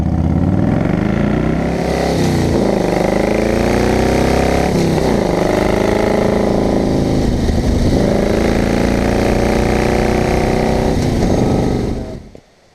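A Harley-Davidson Wide Glide motorcycle engine idles steadily up close, a loud continuous rumble with slight rises in pitch, cutting off abruptly at the end.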